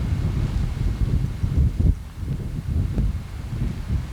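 Strong wind during the 1993 blizzard buffets the microphone in heavy, uneven low gusts, loud and close, with no voices.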